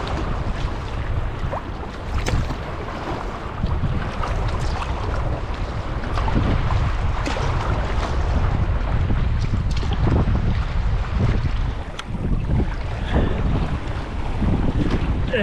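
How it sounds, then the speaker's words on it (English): A sea kayak paddles across open water at the southern tip of the Stockholm archipelago, waves slapping and sloshing around the hull under constant heavy wind rumble, with occasional paddle splashes close by and no talking. "And we start paddling back."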